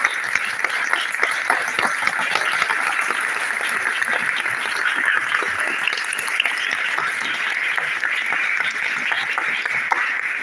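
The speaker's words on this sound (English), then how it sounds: "so let's give him a big round of applause." Sustained audience applause from a crowd at a Hare Krishna gathering, dense and steady clapping for about ten seconds with no voices standing out.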